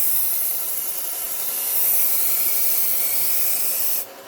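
A chef's knife is drawn along a sharpening surface in one long continuous hissing grind, close and loud, ending abruptly near the finish.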